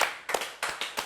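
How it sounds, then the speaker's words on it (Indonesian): Audience clapping during a talk show about J-pop and anime fans, a few sparse, uneven claps close by and fairly quiet. "Tepuk tangan sekali lagi lah."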